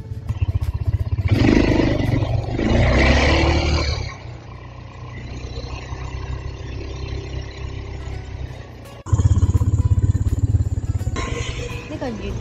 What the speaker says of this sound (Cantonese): 呢個越野摩托車咧，記住要講價。